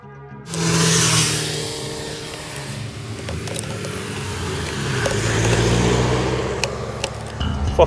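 Video game car engine revving and accelerating, a loud sustained mid-range roar that swells and holds with mechanical rattles, running alone throughout.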